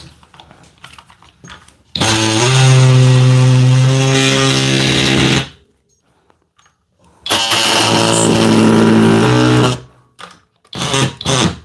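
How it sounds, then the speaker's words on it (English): An oscillating multi-tool cutter bites into material in two loud, close bursts of harsh, high-pitched buzzing, each lasting about three seconds and separated by a short silence, with faint clicks between. "Let me see that multi-tool real quick."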